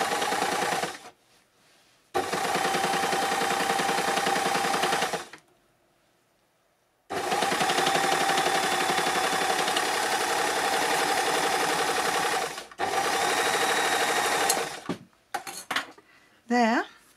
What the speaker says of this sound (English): Is my 4-thread overlock.